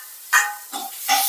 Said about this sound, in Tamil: தக்காளி போட்டு வதக்கிக்கோங்க